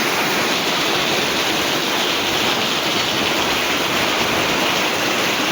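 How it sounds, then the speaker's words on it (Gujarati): Heavy rain pours steadily at a house, a loud, constant dense hiss with no breaks and no voices over it. "પાછો વરસાદ ફૂલ ચાલુ થઈ ગયો છે જો."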